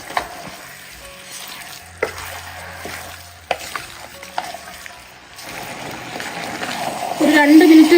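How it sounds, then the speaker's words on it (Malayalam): Mutton being stirred in a hot pan, with a steady sizzle and frying hiss, occasional sharp scrapes and knocks of the spoon, and the sizzle growing louder toward the end; faint voice in the background. "എല്ലാം കൂടെ നന്നായിട്ട് ഒന്ന് ഇളക്കിയെടുക്കാം."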